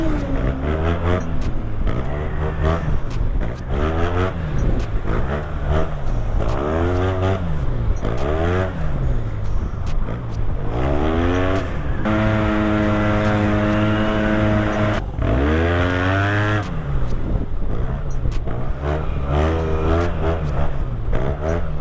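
A Yamaha R1 sport motorcycle roars steadily as it rides up onto a French motorway, its engine rising and falling through repeated revs and gear changes, loud and close throughout.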